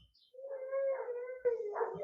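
Puppies howl and whimper close by, one drawn-out rising howl followed by a quavering whine, with a brief knock between them.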